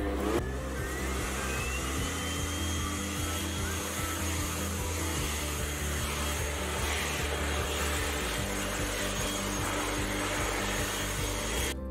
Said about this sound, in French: Voyons tout d'abord l'appareil en mode souffleur.